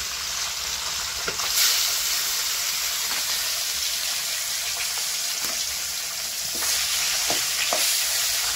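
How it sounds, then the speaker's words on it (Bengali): Loud, steady sizzling of fish frying in hot oil, with occasional light clicks and taps from a utensil against the pan. "তো এখন মাছটি ভাজা বয়াই দিই।"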